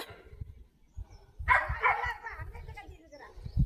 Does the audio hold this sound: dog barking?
yes